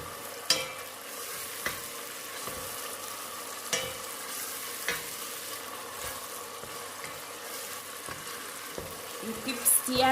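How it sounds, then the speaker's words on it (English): Coconut kidney bean mixture stirred in a pot over low heat on a stove, with a steady soft sizzle and periodic spoon scrapes and knocks against the pot, close and fairly quiet. "You keep stirring because you don't want it to burn"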